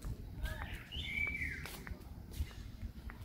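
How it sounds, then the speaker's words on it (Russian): Birds sing outdoors in Lazarevskoye, Sochi, giving a few bright chirps and a short whistled phrase over low street and ambient rumble, fairly faint. "Послушайте, как поют птицы."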